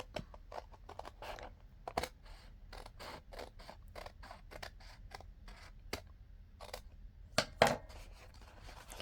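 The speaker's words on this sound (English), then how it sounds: "If I can get my scissors in there, I will trim it." Quiet, intermittent snips of scissors cutting paper, a series of short crisp clicks and creaks spaced irregularly, with a slightly louder cut near the end.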